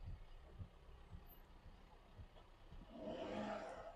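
A vehicle rolls close past, a low rumbling roar that swells near the end of the moment, heard at a distance-to-near range over faint background noise.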